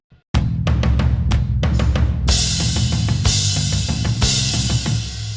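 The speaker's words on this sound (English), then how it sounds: "drums and bass sound like this" A steady rock drum groove with punchy kick and snare and crashing cymbals, locked with a thick bass line, loud and continuous after a brief silent start.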